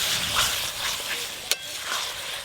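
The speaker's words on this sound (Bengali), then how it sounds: "ইলিশ মাছের মাথাগুলো ভালো করে কষে নেবো" Hilsa fish heads sautéing with spices in a pan, a steady close sizzle with soft stirring scrapes and one sharp utensil clack midway.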